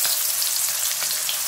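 Green beans coated in cornmeal fry in a pan of hot oil, giving a close, steady crackling sizzle with small pops, with no voices.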